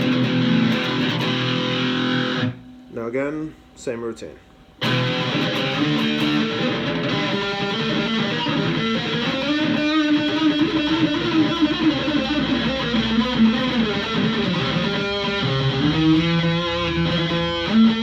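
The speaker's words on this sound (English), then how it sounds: "Heavy distortion, baby." An electric guitar plays through heavy distortion, giving dense, gritty chords and riffs that ring on for around eighteen seconds, with choppy stops near the start and a brief spoken remark early on.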